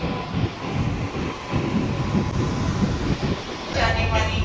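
A Southern Railways first-class AC local train between Chennai Beach and Chengalpattu rumbles steadily along the track, with a continuous low roar and faint rhythmic clatter heard from inside the carriage.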